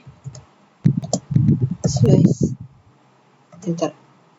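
Commands being typed on a computer keyboard while working in a Debian server terminal: bursts of fairly close, crisp key clicks with short pauses between them, and a voice murmuring in places.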